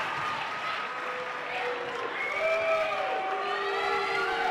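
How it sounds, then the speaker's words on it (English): Spectators in a gym at a 2018 girls' basketball game, with sustained, wavering crowd voices swelling over a constant roar of noise. "the Indian fans are booing, and they have a good reason to."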